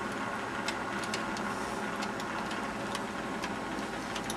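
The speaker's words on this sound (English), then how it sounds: "I'll just bring the needles this side of the latches and then run the row again" A knitting machine carriage runs across a row after the needles were pushed back past their latches to clear a jam, giving a steady, close mechanical clatter with regular ticking clicks throughout.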